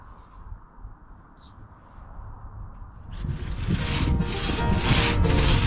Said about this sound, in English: one of the most iconic pieces of vintage logging equipment, the two-man crosscut saw